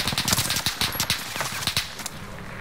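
Rapid video-game gunfire strikes the player in a multiplayer shooter, a dense rattling burst of close shots with sharp cracks throughout, loud and continuous.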